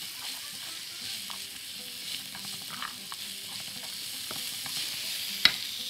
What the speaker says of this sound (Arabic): نشوح البصله.